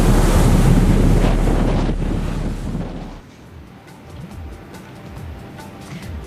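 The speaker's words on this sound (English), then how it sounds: "The sea is rougher. You can know that something is going on in that magnificent sea behind me." Rough sea churned by Cyclone Phailin on the Odisha coast, loud roaring surf mixed with heavy wind buffeting the microphone that eases off halfway through, leaving quieter wash and gusts.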